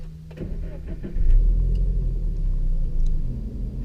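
A Toyota 86 sports car engine cranks and fires, with a few clicks before a deep rumbling idle settling in close inside the cabin.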